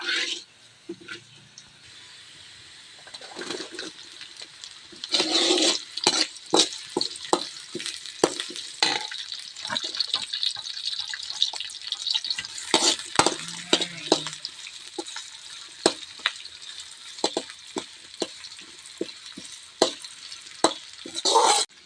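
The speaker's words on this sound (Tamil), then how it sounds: "வெங்காயம் நல்லா வணங்கிட்டோம், அப்பதான் குழம்பு நல்லா டேஸ்டா இருக்கும்." Small onions sautéing in a pan for a Tamil fish curry, a steady close sizzle broken by frequent scraping stirs and spoon taps, with no talking.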